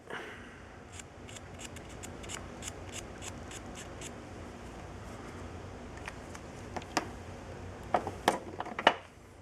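A toothpick being snipped during a model car build, with a series of small, quiet rhythmic clicks followed by a few sharper, louder cutting snaps near the end, close up and with no speech.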